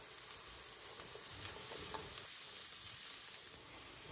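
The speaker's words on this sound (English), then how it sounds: "I'll cook the onions until they're nice and caramelized." Onions cooking in butter in a pan until caramelized, a faint, even sizzle with a soft hiss running throughout, close and unbroken, no voices.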